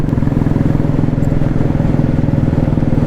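A Royal Enfield Classic 350 motorcycle rides along a road on a long trip toward Pune, its single-cylinder engine thumping in a loud, steady, even rhythm close by, with a little clatter and no voices over it.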